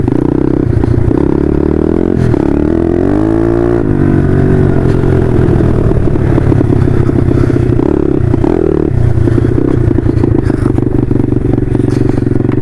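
A motorcycle being ridden in fine weather, its engine droning loud and close with gear-change pitch swoops and steady revs, mixed with rushing wind buffeting throughout.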